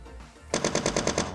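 Rapid burst of gunfire from a shooter game under development, about seven evenly spaced shots in quick succession after a brief quiet start.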